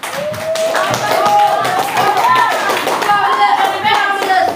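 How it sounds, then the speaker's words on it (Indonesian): A seventh-grade class claps for a classmate's answer, quick, rhythmic hand clapping up close while children's voices sing or chant along over it. "Tepuk tangan dulu."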